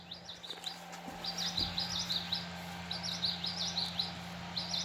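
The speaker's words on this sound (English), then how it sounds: "Common yellowthroat." A Wild Republic Audubon plush bird toy plays a recorded common yellowthroat song through its small speaker: three bursts of rapid, high, rolling chirps, close and fairly quiet over a steady electrical hum.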